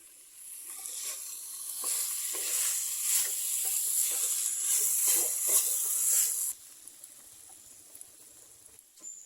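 Boiled jackfruit seeds being stirred into a sizzling jackfruit-seed thoran in a pan, a steady bright frying hiss with soft scraping strokes that drops to a quieter simmer near the end.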